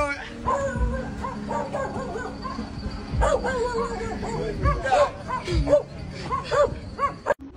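A dog barks and yips repeatedly in irregular bursts, some of them whimpering, while people talk loudly over and between the barks.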